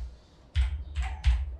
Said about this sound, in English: Okay, I'm just gonna type it on my keyboard.